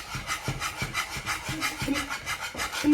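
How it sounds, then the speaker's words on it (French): Crème mousseline whisked in a pot as it cooks, a steady rhythmic scraping and rubbing of the whisk against the pot, close and moderately loud, with no talking. "On continue à bien mélanger jusqu'à que notre crème elle est bien cuite."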